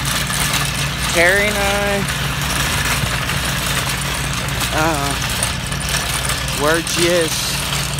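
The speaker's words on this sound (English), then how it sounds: "walking to Walmart with our trusty shopping cart. It's making a whole heck of a lot of racket." A shopping cart pushed along a street toward Walmart gives a constant loud rumbling rattle, with someone speaking briefly over it outdoors.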